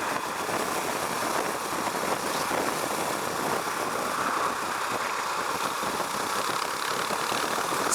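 A Husqvarna Vitpilen 701 motorcycle engine drones steadily at moderate loudness, blended with broad wind rush and road noise, without any change in pace.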